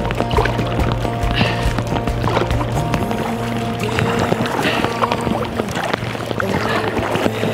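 Paddles dipping and pulling through water beside a handmade reed boat, a steady stream of splashes and drips up close, with no one talking.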